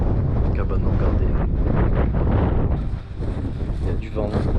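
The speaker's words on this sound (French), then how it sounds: "Il y a du vent. Putain, il y a du vent." Strong wind buffets the microphone in Swedish Lapland near an unguarded mountain hut, a loud continuous roar with gusts that ease briefly partway through.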